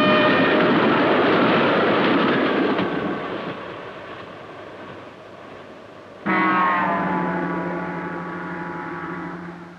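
The Transalpine Express, a 1960s Austrian train, pulls out of Vienna, a loud rumbling roar that fades, then a sharp burst of tonal engine or horn sound that slowly trails off.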